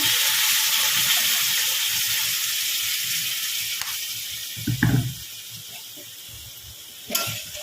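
Water poured into a pan of squash and shrimp curry, a broad hissing sizzle that slowly fades, with a couple of louder splashy bursts near the end, close and without speech.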